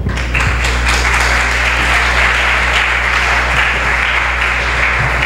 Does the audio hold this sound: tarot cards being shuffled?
no